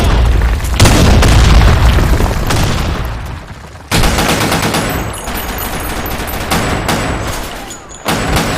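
Grenade blasts and rapid gunfire in a Sand Storm II video game match, a loud continuous barrage of booms and shots with a sharp new blast near four seconds and another near eight.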